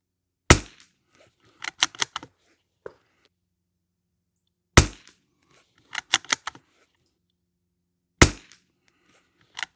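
Three sharp rifle shots from a Savage MKII TR at an outdoor shooting range, evenly spaced about four seconds apart, each followed by a short cluster of clicks and clacks of bolt handling.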